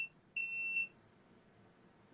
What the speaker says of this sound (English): it's beeping because of the low humidity threshold